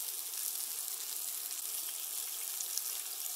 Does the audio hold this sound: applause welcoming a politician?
no